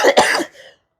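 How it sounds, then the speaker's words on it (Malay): A man gives a single quick, rough cough with a throat-clearing edge, close and fairly loud, fading out within a second. "Maaf saya batuk."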